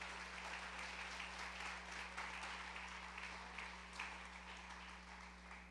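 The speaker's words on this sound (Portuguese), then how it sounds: "Será que você pode dar uma salva de palmas ao Senhor?" Congregation applauding during a church sermon, steady dense clapping from many hands sustained throughout, with a low constant hum underneath.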